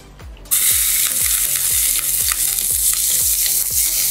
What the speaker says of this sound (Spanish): vamos a ir fritando las verduras para preparar la carne molida